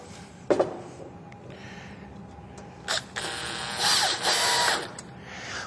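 Wood screws being driven with a ratchet drive during furniture assembly produce brief clicking bursts and a couple of louder whirring, grinding stretches later on. The sounds come close by, with no talk.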